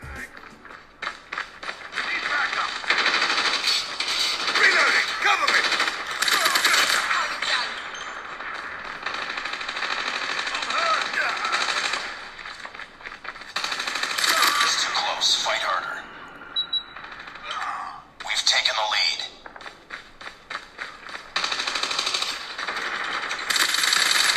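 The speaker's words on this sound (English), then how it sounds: "It's got 2 bottom firing speakers, so just take a listen." Busy video game sounds from the two small, tinny bottom-firing speakers of a Galaxy Z Fold 3 phone: chattering effects, pings and bursts over game music, with brief dips in level.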